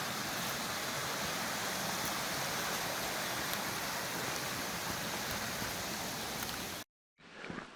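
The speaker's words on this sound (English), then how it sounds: "Another section of the trail running along a beautiful creek." A creek with waterfalls along the Loyalsock Trail in a forest makes a steady, loud, dense rush of flowing water. The sound continues unbroken for about seven seconds before cutting off abruptly.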